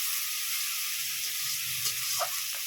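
Turmeric-spiced masala with a splash of water hisses and sizzles steadily in a pan while being stirred, with faint scraping near the end.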